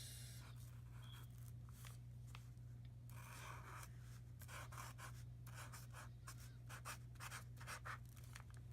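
Hand-writing a name tag on Valentine's Day gift wrap: a quiet pen or marker scratching across paper in short repeated strokes, faint and close, over a steady low hum, with no speech.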